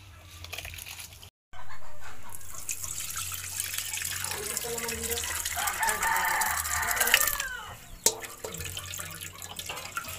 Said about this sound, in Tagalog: Pinapalabas ko maigi yung gata para masarap ang biko.